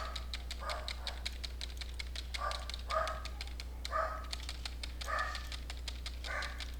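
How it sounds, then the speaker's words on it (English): Dogs barking in a home several times in short bursts, moderately distant, while computer keyboard clicks and taps run steadily throughout and a low hum sits underneath. "Distracted by the dogs barking and my daughter coming."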